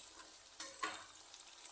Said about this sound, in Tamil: கொஞ்சம் தக்காளி நல்லா வதங்கணும்